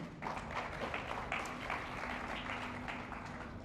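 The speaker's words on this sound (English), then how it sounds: "Let's give them a little round of applause" Applause from a conference audience after guest speakers at a foreign investment event in Italy, a moderate, even patter of many hands clapping at a slight distance, steady throughout.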